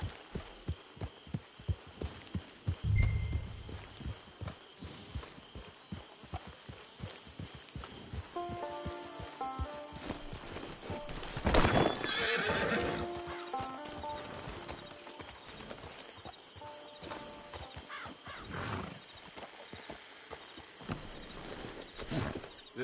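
A horse in a video game trots and gallops with rhythmic clip-clop hoofbeats and gives a neigh partway through, over a faint background score.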